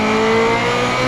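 A Ferrari F355 engine pulls hard on the freeway with a suspect slipping clutch, a loud steady drone with a rising tonal whine heard from inside the car.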